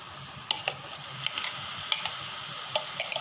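Tomatoes tipped into spices frying for palak paneer give a steady sizzle, with clicks and scrapes as the pan is stirred.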